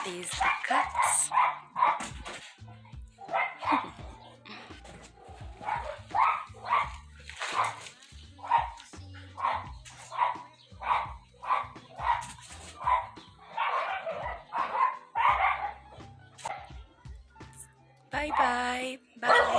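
Several dogs bark in repeated bursts outdoors, a household dog named Scott joined by the neighbor's dogs, with sharp yips and fuller barks overlapping at close and middle distance, and a voice speaks near the end.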